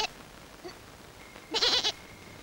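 Goats bleating in a village setting, one short faint call followed by a louder, wavering bleat of about half a second, with no talk over it.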